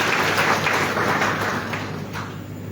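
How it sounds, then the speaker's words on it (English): An audience at the 8th Association of African Maritime Administrations Conference gives a round of applause, a dense, steady wash of clapping from a large hall that fades slightly toward the end. "Can we get another hand of applause for him?"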